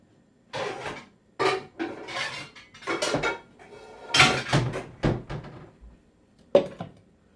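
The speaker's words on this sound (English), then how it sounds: "let me get a pot" A cooking pot is pulled out from among other cookware in a home kitchen, a string of loud metallic clanks, scrapes and knocks coming in separate bursts with short pauses between them.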